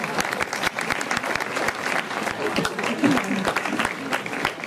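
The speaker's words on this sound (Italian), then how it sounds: "Applauso." Audience applause at an Italian stage show with dense, steady clapping from a crowd. It stays close and loud throughout with many overlapping claps, and faint voices show through underneath.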